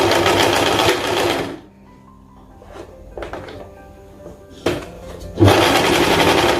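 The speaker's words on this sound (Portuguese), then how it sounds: "eu vou vir aqui para começar a minha costura" An electric sewing machine stitching a summer chemise runs in a loud, steady burst, falls quiet for a few seconds with small handling knocks and clicks, then starts up again loudly near the end.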